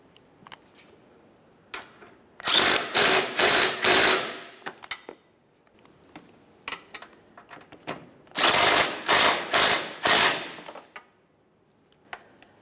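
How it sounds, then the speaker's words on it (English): A ratchet tightens 12mm bolts on a 1994-1997 Honda Accord front bumper cover, with two close bursts of rapid rhythmic clicking separated by quieter scattered ticks and handling noises. "continue on with tightening your 12mm headed bolts"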